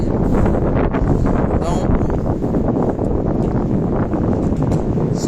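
Wind buffets the microphone outdoors, a loud continuous rumbling roar throughout, with a person speaking briefly over it.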